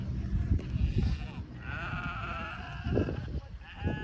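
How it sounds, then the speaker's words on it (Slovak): Goats bleat near a camel ride outside Marrakesh, Morocco: drawn-out, wavering calls overlap in the middle of the stretch over a rumbling outdoor background with wind and movement noise. "Stále to natočíme aj tie kozy."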